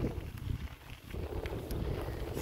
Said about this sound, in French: J'ai remis la doudoune parce que le vent s'est relevé.